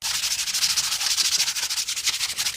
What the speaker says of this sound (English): Now I'm going to take some sandpaper, rough it up